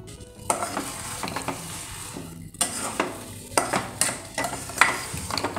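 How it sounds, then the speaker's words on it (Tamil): Rava kesari is stirred in a pan with ghee, with soft sizzling beneath uneven scraping and tapping as a spoon works the thick mixture, with no voices. "ஒரு 3 நிமிஷம் அப்படியே கலரி விட்டுனே இருக்கலாம்."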